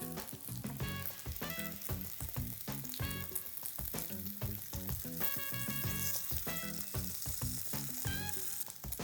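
Tofu brushed with olive oil fries in a pan with a steady, soft sizzle, set under background music with plucked and chiming tones.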